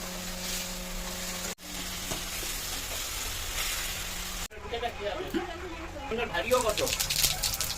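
Potatoes and ground spice paste sautéed in hot oil in a Bengali kitchen, a constant frying hiss with a tonal hum early on, then brighter crackling and stirring scrapes toward the end, under faint background voices.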